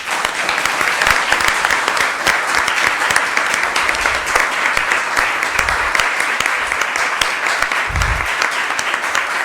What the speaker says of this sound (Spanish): invito a dar un fuerte aplauso